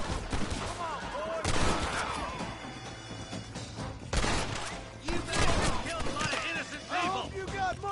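Gunshots ring out in a Red Dead Redemption firefight featuring John Marston, loud cracking shots in clusters with ricochet-like whines, under a voice talking between bursts.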